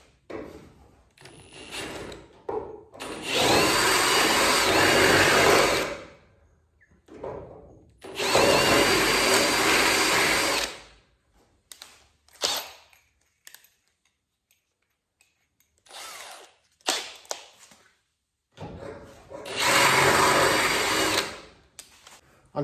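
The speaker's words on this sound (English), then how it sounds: "So then I'll drill that out." A power drill bores out stripped threads on a Mopar car, whining in several sustained bursts of a few seconds each, separated by quieter pauses with small clicks and handling noises.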